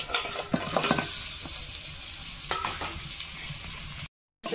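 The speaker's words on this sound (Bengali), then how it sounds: "এখন আমি এর ভিতর ভেজে রাখা এই যে বাঁশকড়াইগুলো দিয়ে দেব, আর এই যে কাঁকড়াগুলো দিয়ে দেব।" Crabs and bamboo shoots fry with spices in a pan, giving a close, steady sizzle with a few sharp stirring scrapes and clinks, then a brief gap of silence near the end.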